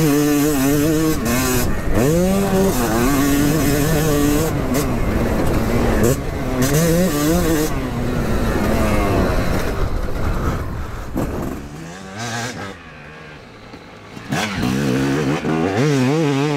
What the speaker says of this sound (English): Stock pipe on that as well, so fair play Yamaha, that's a sweet sounding 250.